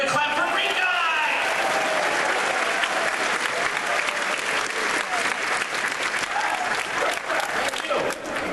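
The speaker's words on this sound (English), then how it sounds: "Give a clap for Green Guy!" An audience at a MAGFest convention panel claps steadily for several seconds, a full, sustained round of applause with some cheering voices mixed in.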